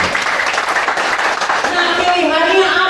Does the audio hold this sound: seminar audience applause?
yes